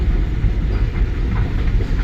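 An airport metro train runs along its track, a steady low rumble and rolling rail noise holding at an even, fairly loud level throughout, with no voices.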